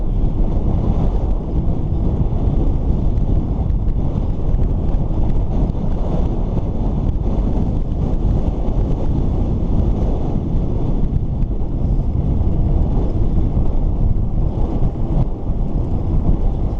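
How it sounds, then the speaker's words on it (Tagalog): Strong wind buffets the microphone in a loud, continuous low roar, rumbling without pause throughout. "Malakas talaga ng hangin."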